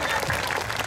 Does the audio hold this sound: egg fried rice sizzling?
no